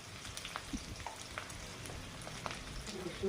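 Spices sizzling in hot oil for a fish curry with green chillies, garlic and winter cauliflower, a soft steady frying hiss with faint stirring clicks, fairly quiet and without voices.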